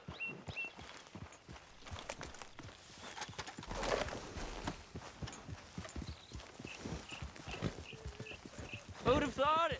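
Horse hooves clip-clop in a steady walking rhythm while riding in Red Dead Redemption 2, close and clear, with a neigh near the end and character voices talking over the hoofbeats.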